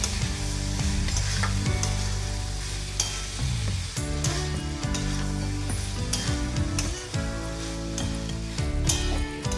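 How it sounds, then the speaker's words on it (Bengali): Boiled peas frying with spice masala and goat fat for ghugni, a loud continuous sizzle broken by repeated scraping strokes of a spoon or spatula stirring in the pan, close up and without talk. "দিয়ে আবারও আমি মটরের সাথে ভালো করে মশলাটা কষে নেব।"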